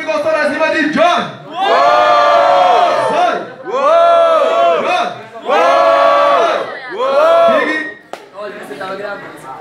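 Crowd at a Portuguese-language rap battle semi-final roaring and shouting in four long loud bursts with brief dips between, close and dense.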